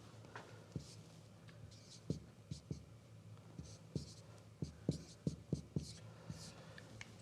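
Pen or pencil scratching on paper while algebra is written by hand, soft taps and strokes in small irregular groups, close and quiet, with murmured speech underneath.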